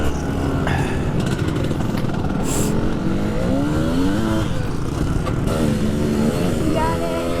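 Dirt bike engine revving hard as the rider takes a jump, a loud rising and falling buzz that holds steady throughout, with people talking over it.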